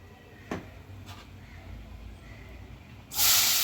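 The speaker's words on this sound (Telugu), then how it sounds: "ఆయిల్ వేడి ఎక్కిందండి కొంచెం పసుపు వేసుకుందాం" Turmeric tipped into hot oil for a Telugu boondi curry, with a couple of soft clicks followed by a sudden bright sizzle bursting up near the end, close and fairly loud.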